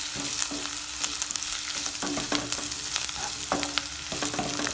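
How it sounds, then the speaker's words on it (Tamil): Onion masala for tomato rice sizzling in a pan after chili powder and turmeric are added, a steady close frying hiss with repeated light clinks and scrapes of stirring, no voices. "இப்போ கொஞ்ச நேரம் வதக்கி விட்டுட்டு"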